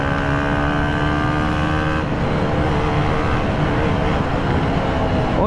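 KTM Duke 200 BS3 motorcycle ridden on the road, a steady loud engine drone with wind rush and gear-shift pitch changes, heard alone without talk.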